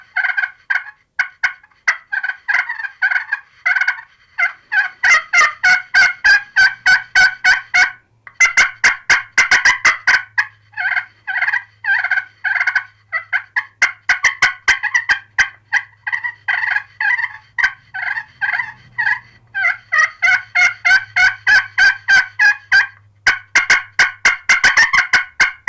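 A turkey slate call scratched with a plastic-dipped dowel striker yelps and clucks in rapid bursts, sharp and loud, with brief pauses between runs of calls.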